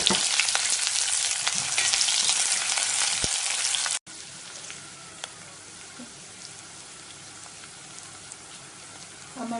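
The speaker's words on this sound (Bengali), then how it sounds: "একটা প্যানের মাঝে 2 টেবিল চামচ তেল গরম করি, তার মাঝে পেঁয়াজ কুচি গুলি দিই।" Chopped onions fry in two tablespoons of hot oil in a pan, cooking for a radish bhaji. The loud, steady crackling sizzle fills the first four seconds, then drops to a quieter continuous frying hiss with occasional pops.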